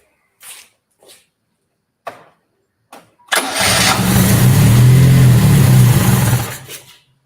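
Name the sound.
Yugo car engine cranking and running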